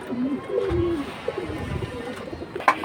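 Pigeons kept for sale coo softly at close range in low, throaty bursts, with faint background activity.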